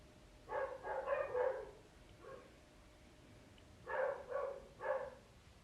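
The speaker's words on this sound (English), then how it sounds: "the dogs are behind the fence telling them, get out of my yard" Dogs behind a yard fence bark in two bursts of three or four quick barks separated by a pause, moderately faint and somewhat distant, with no talking.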